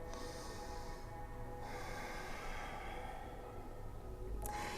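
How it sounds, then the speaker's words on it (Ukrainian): Slow, soft breaths in and out during a gentle yoga stretching session, close and quiet against a low background hum, with no talking. "Зробіть вдих і видих."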